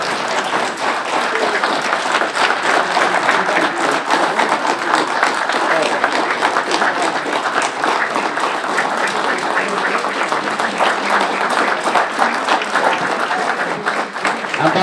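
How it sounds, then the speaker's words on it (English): Sustained applause from a conference audience after an address at a people's conference, dense steady clapping filling the room for the whole stretch with some crowd voices mixed in. "can we give Prof one more round of applause?"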